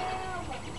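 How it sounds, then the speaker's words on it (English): A chicken wandering about gives a brief, close cluck amid a busy outdoor background. "there's a random chicken"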